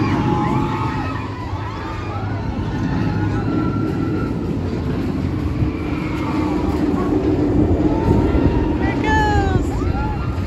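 The Full Throttle roller coaster train roars past overhead at close range, a loud continuous rumble with screeching wheel tones, while people talk and call out nearby.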